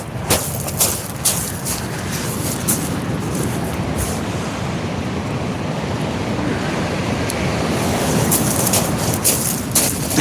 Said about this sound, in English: Hope I don't get washed off the beach because the waves are pretty gnarly.